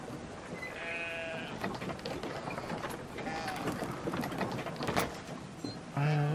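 Sheep bleating in the video game Brothers: A Tale of Two Sons, several short wavering bleats scattered over steady game ambience, with a louder bleat at the end.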